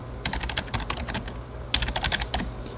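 Fast, close clicking of keys on a computer keyboard in two quick bursts of typing with a short pause between them, no voices.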